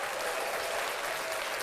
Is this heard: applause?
yes